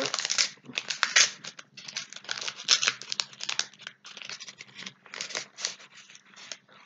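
Wrapping on a fragile gift parcel crinkles and tears in repeated close bursts with short pauses between, as packing paper is pulled open by hand, no voice heard.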